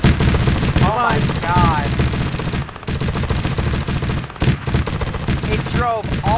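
Machine gun fire from a vehicle in the military video game Arma 3, loud sustained bursts of rapid gunshots close by, with a voice speaking briefly over the firing.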